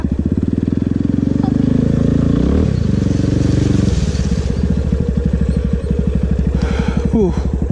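A Yamaha FZ25 motorcycle rides off-road, its single engine chugging loudly and close with a rapid, steady pulse that dips and shifts pitch midway before settling back into the rhythm.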